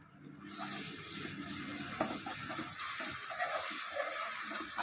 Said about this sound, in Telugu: పేస్ట్లో ఉన్న పచ్చివాసన పోయేంత వరకు కూడా దీన్ని నూనెలో బాగా వేయించుకోవాలి